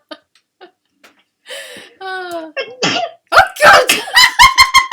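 A sneeze bursts out after some faint sounds, followed by a rapid run of laughter close by.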